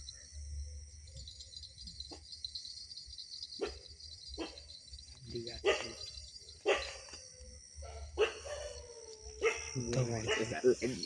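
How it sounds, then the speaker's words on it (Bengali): Dogs bark at night near a banana grove, several sharp barks scattered at irregular intervals, some near and some farther off, over a constant bed of chirping crickets, with people's voices murmuring between barks. "কুত্তা ভুকেতেছে।"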